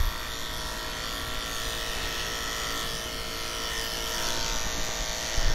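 Electric dog clippers fitted with a 7F blade trim an English springer spaniel's coat, giving a steady, close buzzing drone that runs unbroken the whole time with no voices.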